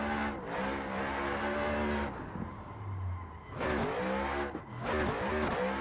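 A car drifting through a continuous sideways lap in a racing video game, driven with a CAMMUS 15 Nm wheel: a steady, strained engine drone with rising and falling revs and a brief drop off throttle midway, with no talking.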